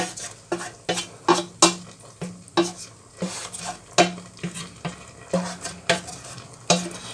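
Purslane frying in a pan while being stirred, with a soft sizzle under a run of sharp, rhythmic scrapes and clinks of a utensil against the pan, close and regular, with no talking.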